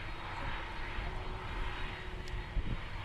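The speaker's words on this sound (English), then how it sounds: "next up, as I said, is our Airbus A320 coming in from Barcelona" Airbus A320 airliner arriving at Dublin airport, a faint, steady engine rumble with a low hum running beneath it, brief and without voices.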